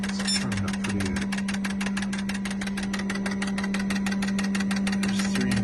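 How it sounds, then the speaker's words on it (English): An engine running with one dead fuel injector misfiring idles nearby in a fast, even ticking pulse over a steady low hum, with a faint voice in the background at moments. "There's 3 injectors injecting. One of them is dead. Not doing nothing. So there's one misfire."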